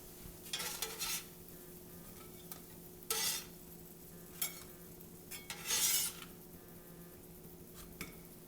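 Sorghum chapati cooking in a pan with minimal oil, with intermittent scraping and turning sounds over a faint steady sizzle and a low hum, close but quiet.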